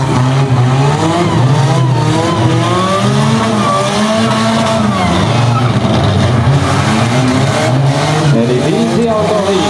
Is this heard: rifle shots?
no